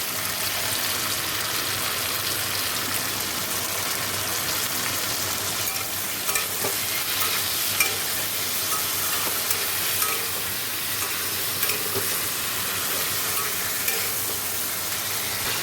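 Potatoes frying in hot oil in a pan, a steady loud sizzle throughout with faint scrapes and clinks as they are stirred, no talking.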